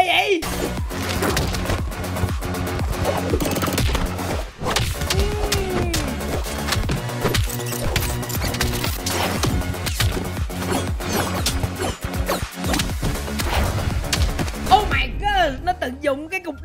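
Gunfire in a shooting video game, dense rapid bursts and heavy impacts going almost nonstop, loud and close, with brief gaps and a sharp cutoff near the end.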